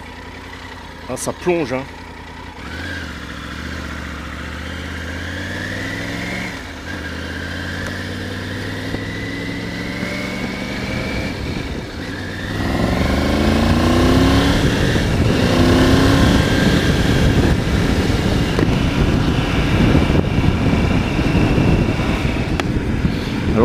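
A Triumph Tiger 900 GT Pro three-cylinder engine idles and then revs up through the gears while riding, its pitch rising in repeated sweeps under a rider's intermittent talk, growing louder with wind in the second half.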